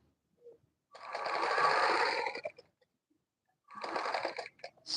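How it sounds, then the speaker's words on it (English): A sewing machine stitches a gown of Ankara fabric in two close bursts of steady mechanical whirring, the first longer, separated by a brief silence. "I put my presser foot up, turn it this way, put it down, and continue sewing."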